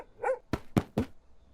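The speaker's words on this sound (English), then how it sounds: "Sudden barking and a shout startled us both" A dog barks close by, a short yelp followed by three quick, sharp barks in a row, clear against a quiet background.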